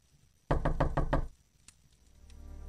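A rapid series of five heavy knocks on a wooden door in the 1999 game Wheel of Time, loud and close, then a quiet hum of background sound.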